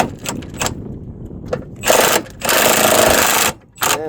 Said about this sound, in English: I'm going to finish it off with a rattle gun